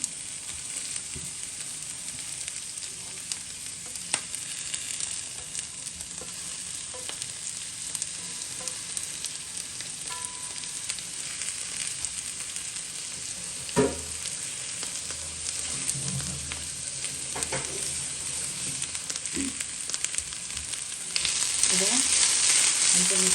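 Drumstick leaves fry with grated coconut in a pan for a Jaffna-style stir fry, making a steady loud sizzle with occasional stirring scrapes and no talk.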